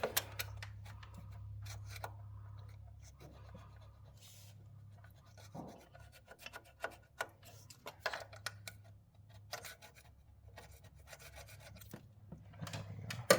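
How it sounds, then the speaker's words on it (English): A 3-in-1 paint scraper rasps and scratches in short irregular strokes as vinyl wrap is peeled from a Ford F250 truck, close and fairly quiet over a low steady hum. "Got an old handy 3-in-1 paint scraper."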